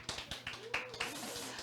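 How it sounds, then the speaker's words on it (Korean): Small audience at a sleep and nutrition lecture giving sparse, scattered applause, a handful of distinct claps at a fairly quiet level, with a voice heard over them. "박수!"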